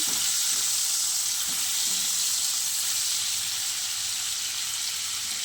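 Fish and green chilies sizzle lightly in a hot pan for a bottle gourd greens dish, giving a steady, even hiss of frying oil that runs unbroken throughout with no voices.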